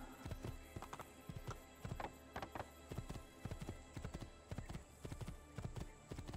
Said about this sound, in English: We got some convenient horses for us.